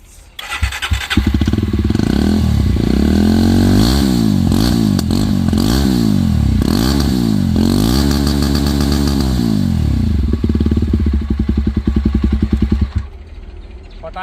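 A Jawa Bobber 42 motorcycle, 334cc with dual exhausts, starts up and is revved repeatedly close by, its deep engine note rising and falling in swells with light crackling pops from the exhaust before it cuts off.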